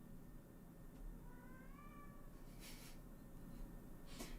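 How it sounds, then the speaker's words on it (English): A cat meows from behind a closed door, a single drawn-out, wavering meow heard faintly at a distance over steady room hum, followed by a couple of soft clicks. "he's just like, meow, meow, meow."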